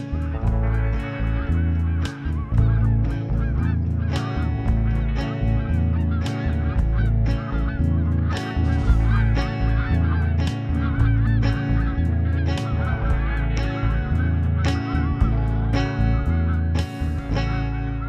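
Geese honk loudly and continuously in a dense, rhythmic chorus with no voices.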